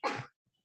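A single short sneeze bursts out close by during a yoga stretching class, then quiet.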